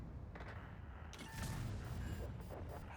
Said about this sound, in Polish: taki strzał w magazyn amunicyjny